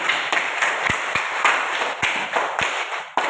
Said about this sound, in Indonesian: Marilah kita tepuk tangan dulu untuk penampilan kelompok 1 pada